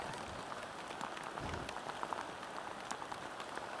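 Steady rain pours down during a scooter ride over a mountain pass, a dense, even hiss of drops with scattered sharper patters close to the helmet, and no voices.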